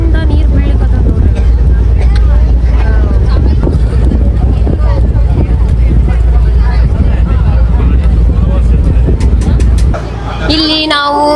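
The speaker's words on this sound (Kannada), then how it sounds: "ಎಷ್ಟು ದೊಡ್ಡ ಬೋಟ್ ಅದ ಇದು" A big boat near Elephanta Caves churns past with a loud, continuous engine and water rumble mixed with wind buffeting, while voices talk nearby, becoming clearer as the roar drops near the end.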